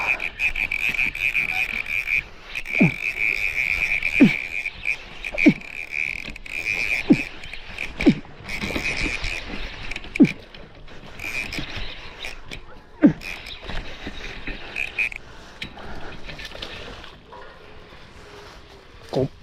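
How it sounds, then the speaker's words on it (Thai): Frogs and narrow-mouthed toads croak at night in a wet outdoor spot. A steady high chorus runs through, and louder low croaks pulse at a regular rhythm of roughly one every second or so, with faint voices underneath. "อึ่งครับกบสวบ"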